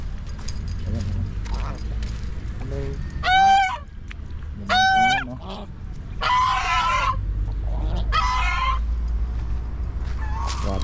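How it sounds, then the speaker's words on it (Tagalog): Loud, nasal goose honks in several bursts, some paired, close by, with a low background rumble and a few other bird calls. "May gansa. Gansa ba to?"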